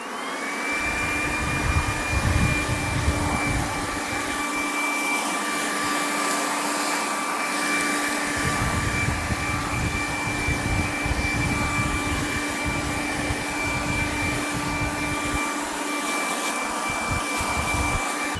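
A powered lawn pest sprayer drones steadily and loudly the whole time, with a sustained motor whine and a pump rumble that rises and falls.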